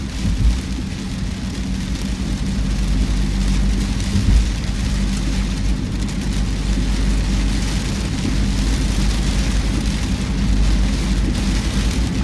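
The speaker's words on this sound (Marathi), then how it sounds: "पाऊस हा एवढा जोरात पडतो आहे पावसाळ्यात पण एवढा पाऊस नसतो" Heavy monsoon storm rain roars steadily on the road from Mumbai to Alibag, a dense continuous wash of noise with a deep low rumble underneath and no voices.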